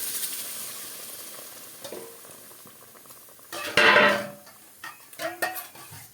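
Liquid is poured into a pan of sizzling, fried spice paste for a katla fish curry with tomato, giving a loud burst of hissing and bubbling that fades, followed by a few clinks of a utensil against the pan.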